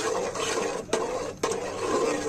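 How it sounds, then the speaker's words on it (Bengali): Custard of half a litre of milk and a full cup of sugar being stirred in a pot, a steady scraping swish with two brief breaks, close and fairly loud, no talking. "সুইটটা পরিমাণ মতো না হলে এভাবে আমি 3 মিনিটের মতো নাড়তে থাকবো"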